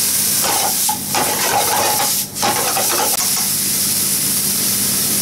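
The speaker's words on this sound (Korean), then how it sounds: "간장을 좀 넣어." Soy sauce hitting a hot pan while cooking turnip leaves in a simple Japanese dish, giving a loud, steady sizzling hiss that fills the scene from start to finish, close and continuous with no voices.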